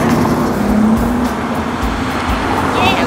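Street traffic rolls past close by, a continuous loud roar of cars with a passing whoosh or two and some faint voices in the mix.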